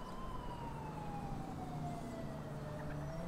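An ambulance siren wails in the GTA 5 video game during a paramedic mission in Madrid, a steady falling electronic tone held over a low engine rumble at moderate volume.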